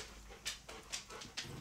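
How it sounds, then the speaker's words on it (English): A dog at home gives three short, sharp barks spaced about half a second apart, fairly faint and slightly distant, with soft background noise in between and no talking. "He doesn't even know what he's barking at."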